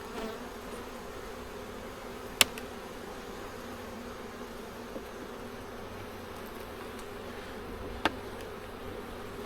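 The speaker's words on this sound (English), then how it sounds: "Definitely got a good population of bees in here." Honey bees drone in a steady, dense hum around an open hive during an inspection, close and continuous, with a few faint clicks and taps of frames.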